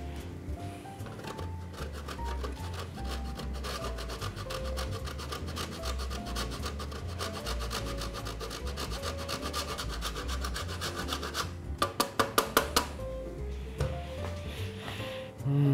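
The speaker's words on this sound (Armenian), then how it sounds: "Եվ վրան քերում ենք պարմեզան պանիր։" Parmesan cheese being grated onto a dish of sauerkraut knedlik, a steady rasping scrape that runs continuously close to the microphone, with a few sharper knocks near the end.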